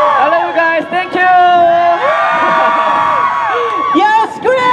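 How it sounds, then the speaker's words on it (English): A concert crowd at KCON LA 2018 screams and cheers continuously, loud and dense, with many high voices overlapping in sustained shrieks throughout. "Everybody scream!"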